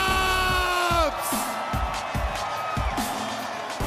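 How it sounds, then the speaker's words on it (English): A large arena crowd at a 5v5 basketball event in Austin, Texas, roars and whoops in a sustained wall of noise, with shouts and a loud announcer voice carrying over it in the first second. "Listen to the crowd"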